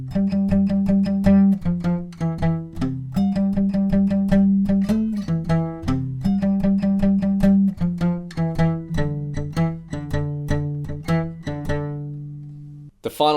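Guitar playing the intro of a song, a steady stream of picked notes over repeating bass notes, close and clear with no talk.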